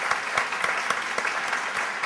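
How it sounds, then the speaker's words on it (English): An audience at a film festival panel with the editors of Lost applauds the guests, a close, full round of many hands clapping steadily with no speech over it. "I want to give a big round of applause to Frank,"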